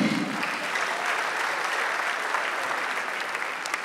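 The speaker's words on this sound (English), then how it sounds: "round of applause for Akapi." An event crowd in Nigeria claps for a comedian, a sustained, even burst of many hands applauding, moderately loud and alone, holding steady to the end.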